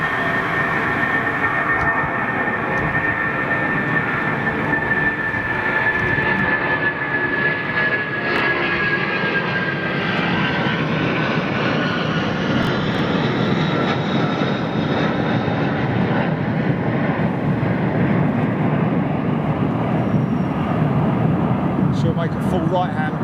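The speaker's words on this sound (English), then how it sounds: "RB211's powering this aircraft," A large airliner powered by Rolls-Royce RB211 jet engines roars at Heathrow Airport, a loud sustained whine and rumble with a slowly shifting high tone as it passes, steady for over twenty seconds.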